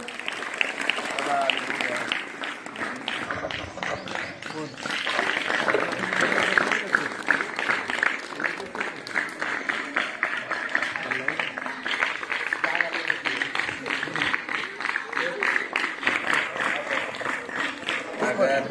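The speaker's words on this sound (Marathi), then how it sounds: "सर्वांनी जोरदार टाळ्या वाजवाव्या." Steady applause from an audience at a Sevalal Maharaj birth anniversary function, sustained and fairly dense clapping that runs throughout at an even level, with a voice or two audible in the crowd.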